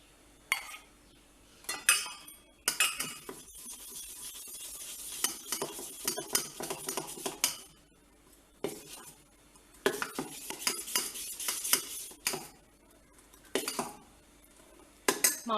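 Dosa batter mixed with ground mudakathan spinach being stirred in a bowl, a spoon scraping and clinking against the sides in repeated bursts with short pauses, close and fairly clear, no talking.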